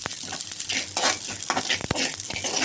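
Sesame seeds and chana dal dry roast in a pan for idli podi, a close rustling scrape of stirring with light crackles and a few sharp knocks of the spoon.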